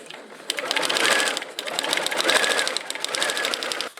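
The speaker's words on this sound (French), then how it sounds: "je couds toujours avec une vitesse moyenne, je ne couds jamais trop rapidement" A sewing machine runs at a steady medium speed while stitching a straight seam, with close, loud bursts of rapid rhythmic clatter that pause briefly between runs.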